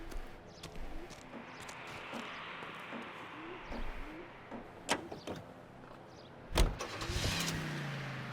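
A car drives through the video game L.A. Noire, its engine humming low and steady under scattered clunks and thumps, with a louder door-like bang near the end.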